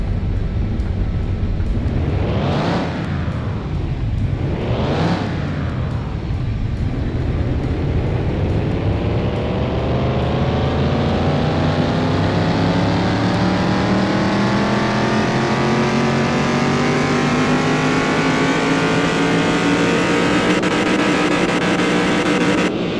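A car engine in Car Mechanic Simulator 21 revving on a dyno: two quick rev blips, then one long continuous pull rising steadily in pitch and staying loud for about twenty seconds.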